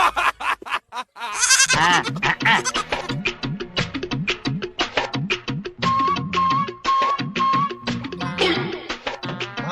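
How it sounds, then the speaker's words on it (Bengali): A goat bleats repeatedly and close by, a string of loud wavering cries with brief pauses, one call holding a long steady tone, amid some background commotion. "ছাগল নিয়ে আসলাম"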